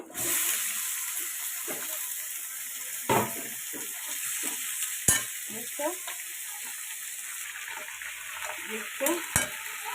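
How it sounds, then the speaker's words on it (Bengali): Chicken pieces hit a hot kadai over browned onions and sizzle loudly in a steady hiss, broken by a few sharp clatters of stirring, close up with no talking. "মাংসটা দিয়ে দেবো কড়াইয়ে"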